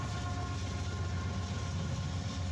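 A Norfolk Southern freight train rolls by with a rear DPU locomotive running backwards, a steady close rumble with a constant engine drone and no breaks.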